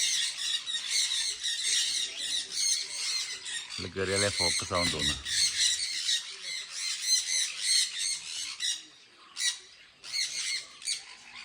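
Many birds squawk and chatter constantly in a high, shrill chorus inside an aviary at Komachi Park, Wayanad, Kerala, with a voice talking briefly in the middle.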